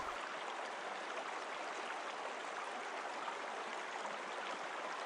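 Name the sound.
water lapping at a riverbank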